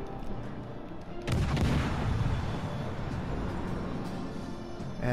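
Warship guns fire in World of Warships: Legends, a sudden heavy artillery boom that rolls into a long rumbling tail over steady background noise.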